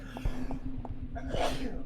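A single sharp sneeze in a video game bursts out near the end, preceded by a short breathy lead-in over a low hum.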